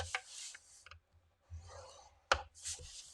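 A blade scores cardboard along a marked line at 1.5 inches while making a toilet paper gift box; quiet, close scraping strokes come in short bursts with a few sharp clicks and pauses between them.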